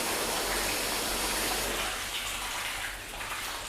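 Water gushes and sheets off a waxed car panel in a loud, continuous rush that eases slightly toward the end.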